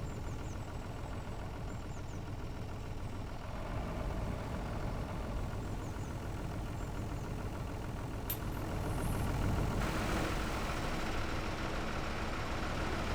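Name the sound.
tractor engine pulling a plow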